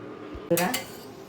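A metal lid is set onto a pot of cooking snakehead fish, producing a single sharp clatter with a short ringing tail over a quiet background.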